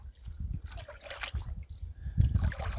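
River gravel and water swirling in a metal gold pan on the Trinity River in California, soft sloshing and trickling with a few splashes, close up with faint background noise.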